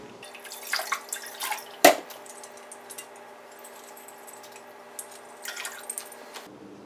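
Water drips and splashes faintly in a quiet room while mead-making gear is sanitized: a few scattered drops and one sharper plop, with a soft tap trickle near the start and end.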